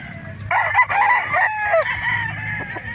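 A rooster crows loudly and close by at a live chicken market in Calauan, Laguna, one long crow with a brief clucking break, over a background of other fowl and faint market noise.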